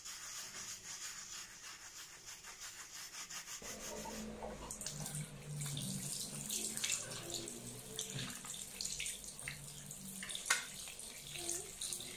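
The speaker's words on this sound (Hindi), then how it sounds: "उसके बाद फिर इसको मैं रिंस कर लूँगी पानी से" Tap water runs over a washing machine part being rinsed, starting as a soft trickle then turning into louder splashing and rubbing, close by, with no talk.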